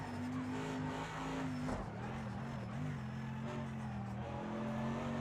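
A Mercedes-AMG GT3 race car in Project Cars 2 at Bathurst holds a steady, droning engine note with slight pitch dips and a constant road and tire rush. It sounds quiet and unbroken throughout.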